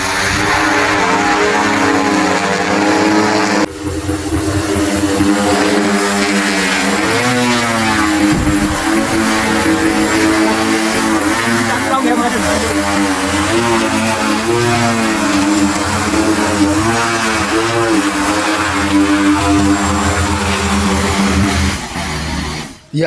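An agricultural spraying drone flies close by, its propellers giving a loud, steady whirring drone with a shifting pitch that holds for more than twenty seconds before cutting off at the end.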